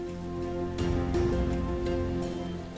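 Steady rain falls throughout at an even level, mixed with a sustained tonal hum of background music, with no talk.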